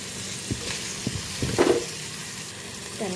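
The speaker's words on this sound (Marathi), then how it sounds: "त्यानंतर अद्रक लसण पेस्ट मध्ये ना टॉमॅटो चॉप केलेला टाकून घेऊया आपण" Chopped tomatoes hit hot oil and ginger-garlic paste in a pan, giving a steady sizzle and frying hiss with a few soft stirring knocks and clinks, close and moderately quiet.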